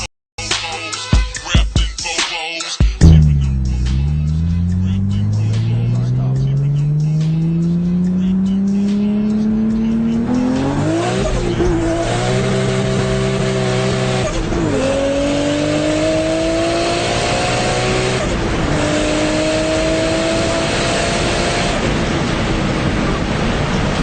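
A 2,794 horsepower V12 in the Automation game starts with a crackle, then revs steadily upward in a loud rising whine, shifting pitch in stepped climbs across the clip.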